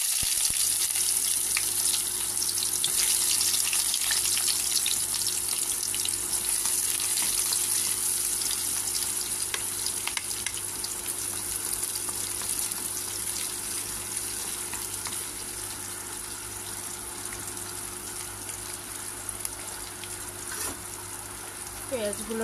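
Chopped onions fry in a pan, giving a continuous bright sizzle that slowly settles and softens, with occasional faint stirring.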